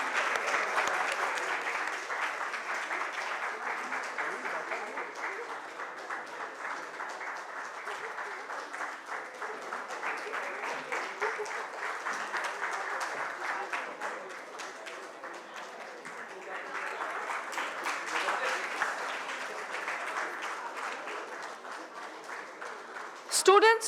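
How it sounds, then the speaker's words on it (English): An audience at a university day ceremony claps for award recipients in a long, sustained round of applause that swells slightly near the end, with occasional voices faintly mixed in. "We request the audience to please greet them with a round of applause."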